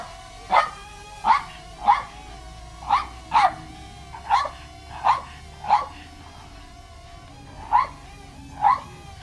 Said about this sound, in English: The dog is loving that drone.